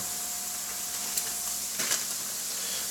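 Eggs fry in a pan with a steady, close sizzle and faint crackle that keeps going the whole time, with a couple of small pops and scrapes and no talking.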